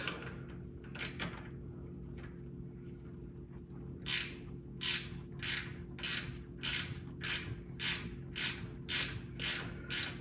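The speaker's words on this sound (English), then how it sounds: "Go ahead and remove these bolts and take a look at the diff cover" A hand ratchet loosens the differential cover bolts on a 2024 Jeep Wrangler, giving faint clicking at first and then a steady series of about ten sharp, close ratcheting strokes over a low background hum.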